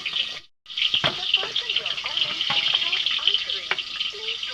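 Eggs frying in a pan for an egg curry give a steady bright sizzle, with clinks and scrapes of stirring throughout and a brief drop to near silence just after the start.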